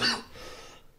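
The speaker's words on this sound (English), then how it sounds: "quit coughing, buddy" A single short cough bursts out close by, followed by a faint breathy tail and quiet room noise.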